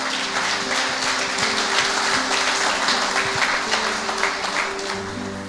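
A church congregation claps loudly and steadily in response to the preacher's call, a dense, sustained wash of applause with a few voices faintly mixed in.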